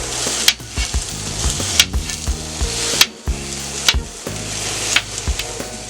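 Half a pound of sausage sizzles and fries on a steel griddle beside browning potatoes and onions, a steady crackle broken by repeated sharp spatula scrapes and taps against the metal.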